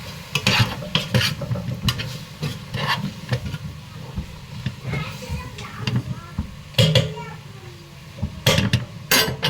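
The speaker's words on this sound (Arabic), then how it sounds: "شوح بقى الفراخ مع البهارات" Chicken sautéed with spices in a pan gives close, repeated scraping and stirring clatter over a soft sizzle, in irregular bursts of utensil strokes with a voice talking at times.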